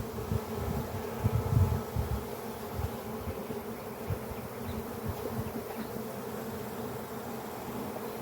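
Honey bees buzz steadily and close during an inspection of a brown hive, a dense continuous drone with swelling, shifting intensity and no voices over it.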